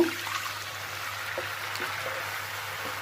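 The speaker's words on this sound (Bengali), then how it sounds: "এখন আমি 1 কাপের মতো পানি দিয়ে দিব," About a cup of water poured into frying masoor lentils in a pan, a soft close trickle and splash over a steady background hiss, brief and without talking.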